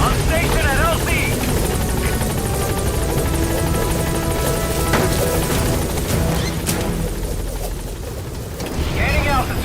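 Metal Gear Solid V support helicopter arriving at a landing zone: loud, steady rotor thump and engine roar close by for the whole stretch, with radio voice chatter over it and a couple of brief impact bangs.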